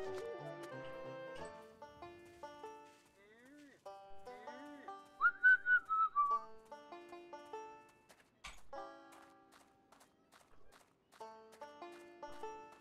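A car's turbo whistles in the racing game Evil Days of Luckless John: a loud, gliding high tone rises and falls briefly near the middle, set among busy melodic game tones and clattering effects.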